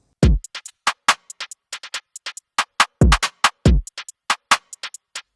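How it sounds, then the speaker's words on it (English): A dry, unprocessed drum kit plays a steady groove, with deep kick thumps, sharp snare hits and crisp cymbal ticks, no voices. "if I had to play just all the drums soloed, it sounds like this, with no plugins on"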